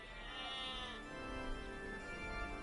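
Sheep bleating in the Age of Empires II strategy game, a drawn-out bleat in the first second over steady game ambience, fairly faint with no talk.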